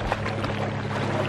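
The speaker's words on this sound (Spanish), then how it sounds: "Como pasan las lanchas ahí cerquita, miren, se hacen las olas." Motorboats pass close by on open water, a steady near rumble of engines and splashing waves with wind buffeting the microphone.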